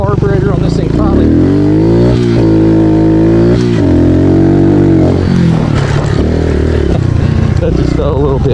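Kawasaki KLX 110 big bore dirt bike with a big carburetor accelerating hard out of a turn, its loud single-cylinder engine rising in pitch through the gears, close and continuous, with a rider's voice over it.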